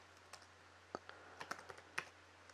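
Quiet computer keyboard typing, a short run of scattered soft key clicks with irregular spacing over a faint hum.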